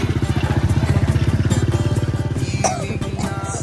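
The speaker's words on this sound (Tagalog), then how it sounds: "Ang motor nila dito." A motorcycle engine idles close by with a rapid, steady putter, with some faint background clatter and distant voices.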